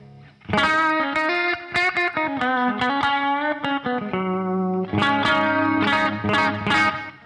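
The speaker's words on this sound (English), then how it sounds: "when you dig into the strings more, there's this distortion happening." Electric guitar through a budget chorus pedal, with a swirling chorus effect and gritty distortion as the strings are dug into, notes and strummed chords ringing out loud and close with no voices.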